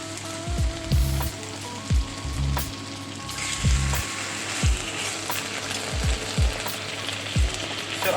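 Thin-sliced beef bulgogi sizzling in a hot skillet, a steady close frying hiss punctuated by repeated soft knocks and scrapes of a utensil spreading the meat, with no talking.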